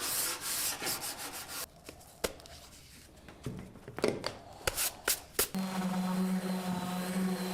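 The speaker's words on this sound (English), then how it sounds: "Now I'm sanding everything with 240 grit one last time before we can start staining the piece." Hand sanding with 240 grit sandpaper across a wooden mid-century coffee table, with uneven scratchy strokes, a few knocks and a quieter pause before a steady rubbing stretch.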